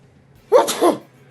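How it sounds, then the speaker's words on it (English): One sharp human sneeze, close and loud, a quick double-peaked burst standing alone against a quiet background. "Oh, the sneezing."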